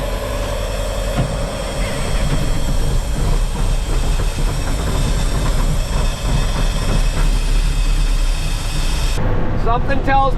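Loud, continuous rumble of a train rolling past a nearby crossing, with rattling wagons and a low engine drone that stays steady before breaking off at the end.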